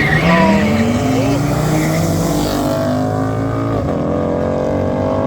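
BMW M4 race car accelerating hard at a drag racing event, a loud close engine roar with rising gear pitch sweeps and a shift, a commentator talking over it.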